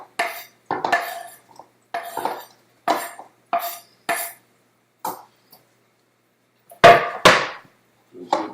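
Salad being scooped into a kitchen bowl makes a run of sharp, close clinks and knocks, like utensils tapping the bowl in an uneven rhythm, with a louder pair of clatters near the end and no talking.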